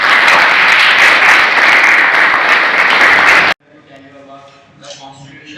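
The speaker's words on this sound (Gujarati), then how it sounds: "એકવાર તાળી દઈ દે છોકરા માટે." A crowd applauds a student after a classroom talk on the Indian Constitution at a polytechnic, with loud, dense clapping lasting about three and a half seconds before it cuts off and quieter voices follow.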